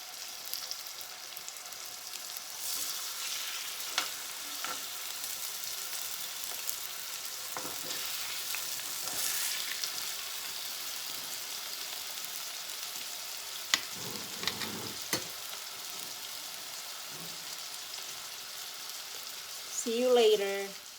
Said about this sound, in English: brown this pork chop